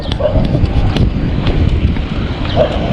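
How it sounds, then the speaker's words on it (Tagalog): Wind buffeting the microphone in low, uneven gusts outdoors in Lipa, Batangas, with a faint distant bark or two somewhere in the background. "Isang hangin oh, sarap."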